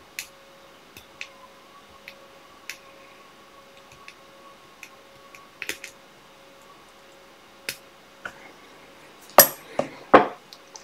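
Scissors snip leftover thread while a Sir Richard salmon fly variant is tied. Faint ticks and light clicks come first, then two sharp, close snips near the end.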